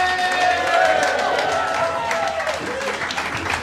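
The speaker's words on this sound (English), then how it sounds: "And let's keep that applause going as well." A comedy show audience applauds and cheers continuously, a dense wash of clapping with a few raised voices mixed in.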